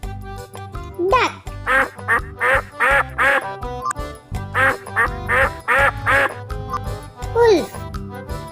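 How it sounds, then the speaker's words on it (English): A duck quacks in quick repeated bursts, two runs of loud, close, rhythmic quacks over light background music, with a voice heard briefly. "Duck."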